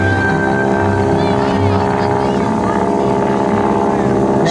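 Stunt biplane engine droning loudly and steadily during a wing-walking slow roll at an air show, a continuous engine roar with a loudspeaker announcer talking over it throughout.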